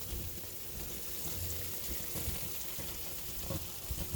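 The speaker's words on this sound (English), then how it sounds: "Can you hear the sizzling?" A traditional Acadian Rappie Pie sizzles in a hot oven, giving a faint, steady crackling hiss with a few small pops, heard at a distance.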